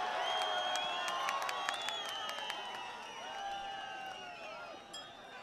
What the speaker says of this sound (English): The crowd coming alive.